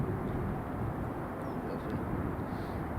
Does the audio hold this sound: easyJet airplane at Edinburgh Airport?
yes